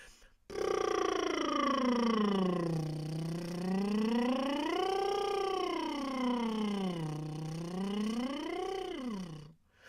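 A singer's lip trill buzzes continuously through the vocal range during a warm-up, the pitch sweeping smoothly up and down in repeated arcs for about nine seconds. The sound is soft and fluttering, with no other sounds.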